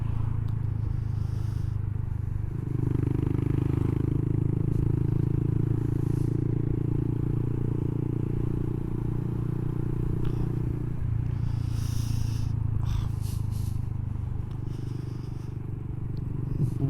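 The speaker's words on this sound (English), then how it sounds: "The new Yoshi exhaust is phenomenal. It's not got the baffle in, so it is actually hurting my ears a little bit." Honda Monkey motorcycle fitted with a Yoshimura exhaust with the baffle removed, a loud steady low engine drone close by, rising in intensity for several seconds mid-ride then easing slightly and holding on.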